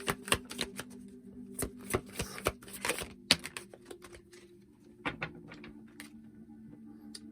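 Tarot cards are shuffled and handled during a reading, making quick papery riffles, taps and flicks in irregular bursts, close and fairly quiet with no talking.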